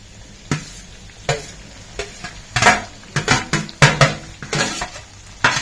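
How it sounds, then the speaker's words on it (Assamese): Banana flower fries in a pan with potato and onion, for a pork dish, as a spatula scrapes and stirs in a series of sharp clattering strokes over a soft sizzle, with no talking. "এতিয়া কলফুলখিনি দি অকমান ভাজিম"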